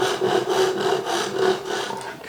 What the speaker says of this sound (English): the teeth are raked towards the operator, so the cutting stroke is the pulling stroke rather than the pushing stroke